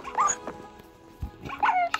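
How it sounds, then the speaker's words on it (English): A virtual puppy in a video game gives a few high, thin yips and whimpers, faint and close, with some quiet background sound between them. "you're gonna kill your puppy"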